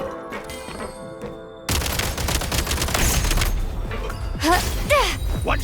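Gunfire from Genshin Impact during the Snezhnaya Archon Quest: a quiet stretch with music gives way to a loud, sustained burst of rapid shots and booms, with swooping whistle-like effects near the end.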